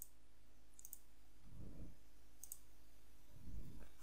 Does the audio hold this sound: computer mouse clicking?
yes